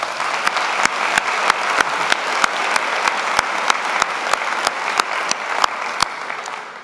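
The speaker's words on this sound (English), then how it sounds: "Let's give them another round of applause." At a university convocation, a large crowd applauds a big band, a broad steady wash of clapping punctuated by sharp, evenly spaced louder claps throughout.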